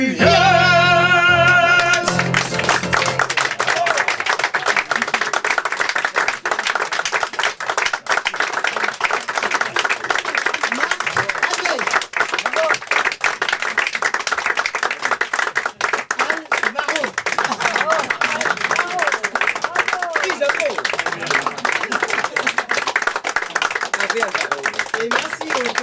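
An audience claps and applauds in a small theatre, sustained, dense applause that runs for the whole stretch at a steady level, with voices heard speaking briefly at the very start.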